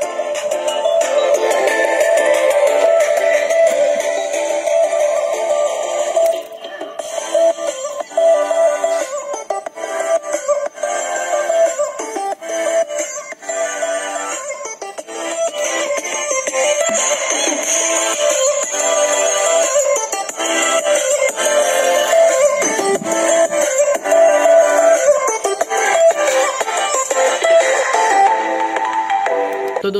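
Songs play continuously from a small music player speaker with an anti-theft alarm, bright and thin with little bass, staying loud and steady throughout with no talking.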